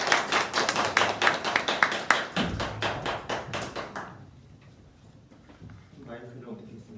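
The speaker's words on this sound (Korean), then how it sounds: "우리 김동환 목사님 앞으로 나오실 때 큰 박수로" A church congregation claps in welcome as the pastor comes forward at a Sunday worship service, a dense run of close, sharp hand claps that thins and stops midway, followed by quieter shuffling and a voice speaking.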